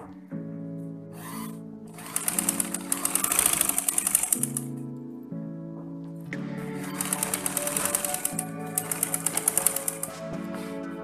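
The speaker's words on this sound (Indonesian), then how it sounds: "Kita jahit sesuai dengan radar." A sewing machine stitches a blouse seam along a marked line, with two runs of rapid rhythmic needle clatter over a steady motor hum and a short pause between, close and clear with no talk.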